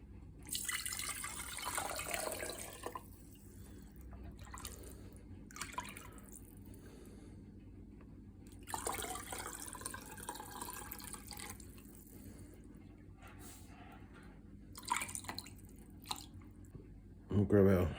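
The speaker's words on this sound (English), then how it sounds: "We're just going to scoop our broth out." Chicken bone broth scooped from a pot and poured through a canning funnel into jars, soft liquid pours and drips in short bursts with quiet clinks, under a faint background hum.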